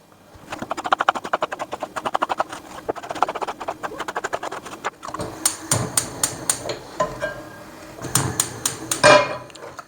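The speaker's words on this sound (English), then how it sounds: "Chop the onions" A knife chops onions on a board in quick, rhythmic taps, then slower, heavier knocks follow in bursts. The sound is close and clear, with no talking.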